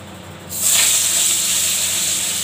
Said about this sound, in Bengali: তাই কাতলা মাছটা আমি এখন রান্না করব।